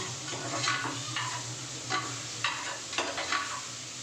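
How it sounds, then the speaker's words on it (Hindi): Onion frying in a pan with tomatoes and spices just added, a steady close sizzle broken by several scraping stirs of a spoon against the metal, with no one talking. "तो अब मैं डाल दूँगी इसमें टमाटर और सारे मसाले।"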